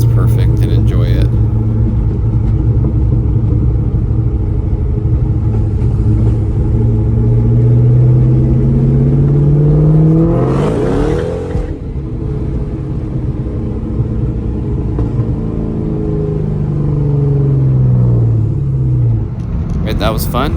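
A car engine revs while driving, its close, steady rumble swelling into several rising, then falling pitch sweeps, with a brief louder surge near the middle.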